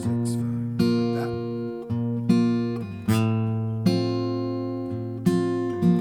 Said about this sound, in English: I'm doing a simple picking pattern